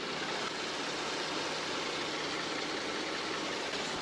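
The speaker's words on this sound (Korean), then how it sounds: "바로 가까이서 엔진 사운드 담아드리도록 하겠습니다." A 2013 Kia K9 3.3 GDI engine idles steadily and smoothly with the hood open, recorded up close, a quiet even hum with a faint low tone and no voices.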